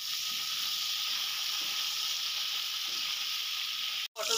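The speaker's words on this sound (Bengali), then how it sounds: "এবারে এই তেলের মধ্যে আমি পটলগুলো দেবো, দিয়ে পটলগুলো আমি একটু হালকা লাল লাল করে ভেজে নেব।" Pointed gourd pieces frying in oil, lightly salted, giving a steady close hiss and sizzle with faint stirring taps, cut off by a brief gap near the end, no voices.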